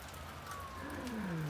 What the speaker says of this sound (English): So right now it's raining, cold, cloudy.